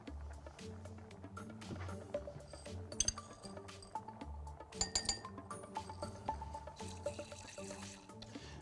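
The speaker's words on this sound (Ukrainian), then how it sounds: "Розчинимо її у воді." Sodium acetate powder being dissolved in cold water in a chemistry lesson: light glassy clinks and taps, soft liquid stirring and swirling, with bursts of brighter clatter around the middle, fairly quiet and close.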